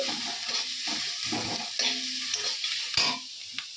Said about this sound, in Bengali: কড়ার মধ্যে আমি পাঁচ ফোড়ন পেঁয়াজ লঙ্কা দিয়ে দিয়েছি